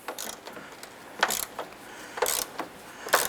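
A ratchet wrench loosens a bolt on the front strut assembly of a 2007-2012 Nissan Versa, making short bursts of quick clicking strokes with pauses between them, close and fairly quiet.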